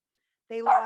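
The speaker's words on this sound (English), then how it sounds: "That's my dog." A dog gives a single short bark right after half a second of silence, overlapping a voice speaking briefly.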